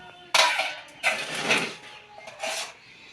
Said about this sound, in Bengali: আর এখন তরকারি বেড়ে রাখছো? হ্যাঁ, তরকারিটা বেড়ে রাখি।